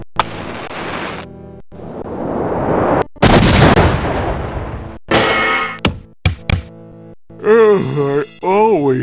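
Heavy booming blasts of cannon fire ring out in The Jungle Book 2 game scene, each with a sharp metallic clang, followed by a quick series of bangs and a speaking voice.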